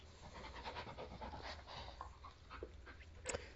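A dog pants and whimpers faintly in the horror video game Blair Witch, giving quick breathy puffs with soft whines over a quiet background and a brief sharp sound near the end.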